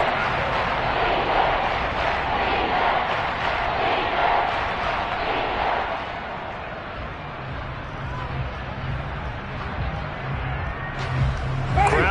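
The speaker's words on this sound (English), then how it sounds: "Crowd getting in it a bit already." Stadium crowd noise at an American football game between the Falcons and Saints, a steady broad roar swelling and easing under continuous commentary, with a brief sharp rise near the end.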